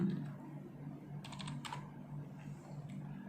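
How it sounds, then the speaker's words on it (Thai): Soft clicks of typing on a computer keyboard, with a few short bursts of keystrokes over a low steady hum, fairly quiet and close. "แล้วก็พิมพ์ซูม"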